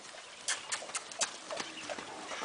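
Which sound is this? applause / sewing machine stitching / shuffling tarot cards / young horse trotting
young horse trotting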